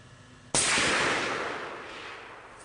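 A single loud, close blast from a .50 caliber armor-piercing incendiary machine gun fired at a target, a sharp crack followed by a long, slowly fading roar.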